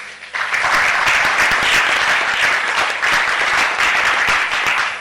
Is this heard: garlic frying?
no